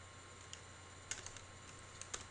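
Keys tap on a computer keyboard in a quiet room, with scattered soft clicks and a small quick cluster in the middle, faint and close with no talking.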